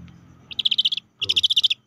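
A young scops owl chick gives two rapid, raspy trilling calls, each a quick series of pulsed chirps, close and clear against quiet background at night.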